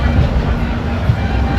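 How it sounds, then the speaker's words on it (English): A GO Train rolling on rails toward Toronto, heard from inside as a loud, steady low rumble and rattle filling the whole moment without clear breaks. "We used to listen to the train, now we're on"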